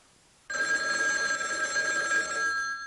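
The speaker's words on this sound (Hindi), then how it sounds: "फोन बज रहा है।" An old-style telephone bell rings continuously, loud and close, a bright metallic trill that starts suddenly and carries on without talk.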